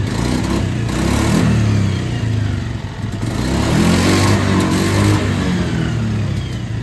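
A Honda Beat scooter engine with a misfire revs loudly and close, its uneven rising and falling drone stuttering as the throttle is held open, with no voices.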